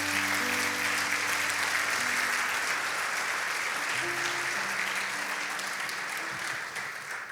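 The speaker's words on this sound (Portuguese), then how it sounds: "Você pode dar uma salva de palmas a Jesus por isso?" A church congregation claps together in steady, continuous applause at a sermon, the dense clapping holding loud and even throughout with a faint murmur of voices beneath.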